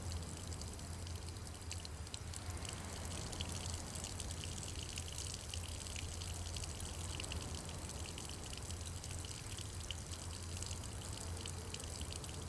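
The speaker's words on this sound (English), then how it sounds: "and out poured rum." Rum gushes from a small hole drilled with an auger into a barrel in a video game, a steady continuous pour of liquid at an even level with no break from start to finish.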